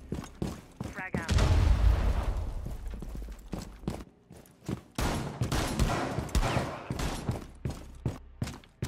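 A frag grenade explodes with a loud, booming blast in Rainbow Six Siege, followed by scattered gunshots and mechanical clatter, with voices in the background.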